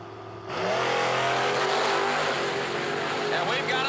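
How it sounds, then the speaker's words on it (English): Drag race cars launching at a drag strip, engines erupting from near silence into a loud sustained roar that holds for several seconds before easing slightly. "And we've got us a drag race."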